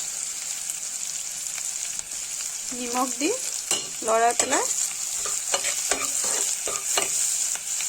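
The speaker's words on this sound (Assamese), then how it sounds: "লৰাই লৈছোঁ" Onions fry with turmeric and salt in a pan, a close, continuous sizzle broken by several bursts of stirring and scraping, with a brief spoken syllable and no other talk.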